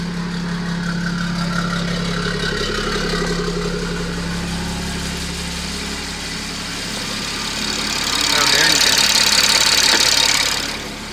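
A BMW 540i B58 engine with a catless downpipe idles steadily after a cold start with a low rumble, then the revs rise briefly near the end before settling back.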